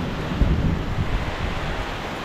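Wind gusts and rumbles across an open microphone as a storm approaches, a steady, fairly loud roar with buffeting thumps and no voices.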